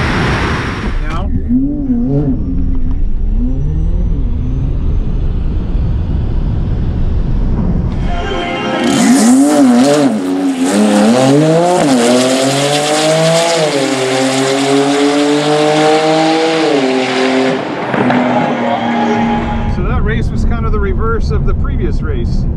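A Tesla Plaid launches down a drag strip, its electric motor rising in a loud, smooth whine that climbs steadily in pitch for several seconds as it accelerates, then fades out; speech is heard near the start.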